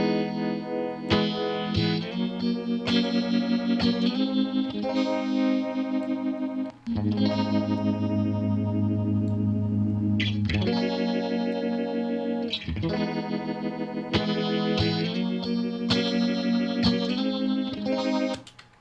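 Electric guitar chords played through a lush, wide Helix Native modulation effect with spread and mix turned up, shimmering and swirling, loud and continuous with a few brief pauses.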